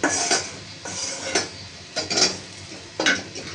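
In a home kitchen, metal utensils clink and a lid knocks onto a pot of simmering rohu fish curry, several separate sharp metallic clatters spaced a second or so apart, close and fairly loud.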